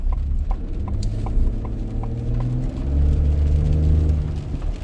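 A 2024 Ford F150 with the 2.7 engine and CVFab downpipes runs close by, a loud, steady low rumble with a slight rise in revs partway through, heard alone.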